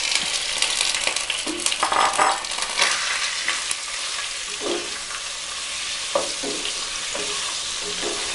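Chicken sizzles loudly in hot coconut oil for a Kerala-style chicken roast, with a continuous frying crackle broken by scraping stirs of a spatula through the pan.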